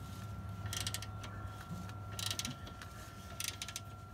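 A wrench ratchets on a bolt on the lower radiator support bracket of a 2008 Pontiac G6 four-cylinder. Several short clicking bursts come at intervals over a low steady hum, heard close and with no speech.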